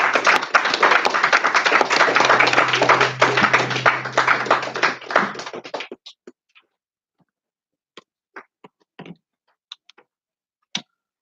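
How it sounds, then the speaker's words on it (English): A congregation gives a round of applause, dense clapping for about six seconds that then thins to a few scattered, isolated claps. "Give him another round of applause."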